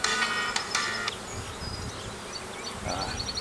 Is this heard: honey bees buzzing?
yes